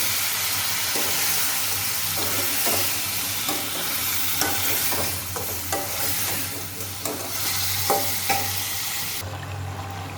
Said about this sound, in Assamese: আমি ধুনীয়াকৈ মিক্স কৰি ল'লোঁ, তেলত একদম বঢ়িয়াকৈ মিলাই ল'লোঁ